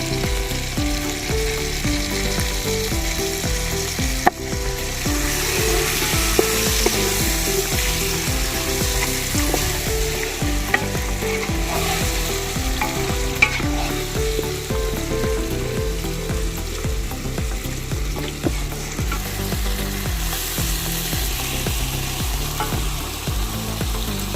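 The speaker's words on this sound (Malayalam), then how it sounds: "ഒരു മൂന്ന് ചെറിയ തക്കാളിയാണ് അരച്ചുകൂടി ചേർത്തിട്ട് നന്നായിട്ട് മിക്സ് ചെയ്യാം" Ground tomato from three small tomatoes is stirred into a chicken mandi base in a hot frying pan. It sizzles steadily, broken by repeated scraping strokes of the stirring spoon, with no talking.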